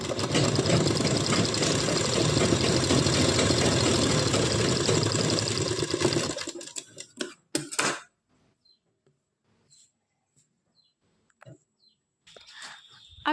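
A sewing machine stitches blouse fabric with a loud, continuous motor whir for about six seconds, then stops, leaving a couple of brief bursts and faint clicks of handling.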